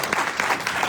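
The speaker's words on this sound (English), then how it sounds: "give these guys a big round of applause" Brief burst of dense audience applause at a business briefing, even and sustained for about a second.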